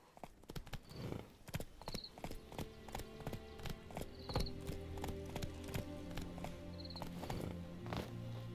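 A horse in the video game The Witcher 3 trots with steady, close clip-clop hoofbeats and faint jingling tack, continuing evenly under a quiet background tone.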